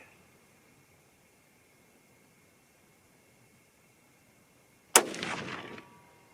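A .243 Win rifle loaded with Ramshot Grand powder fires a single loud, sharp shot after several seconds of near silence, its blast decaying over about a second.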